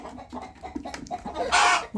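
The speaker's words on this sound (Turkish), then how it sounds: "Bu ördeğime iş kesen horoz tekrar ipini çözdü" Nearby chicken calls, clucking and a short raspy rooster crowing burst near the end, loud and close against farmyard noise.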